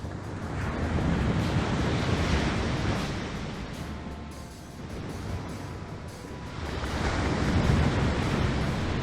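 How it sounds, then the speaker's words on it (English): Breathing of the Onryo, a killer in the video game Dead by Daylight, rendered as a steady, airy rush like ocean surf, swelling and fading in slow waves over the whole stretch, with no speech. "The Onryo's breathing sounds like ocean waves."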